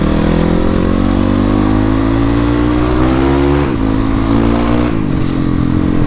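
A Viar Cross 250 off-road motorcycle engine revs loudly up close, holding a steady buzzing drone with pitch rising through two quick throttle blips.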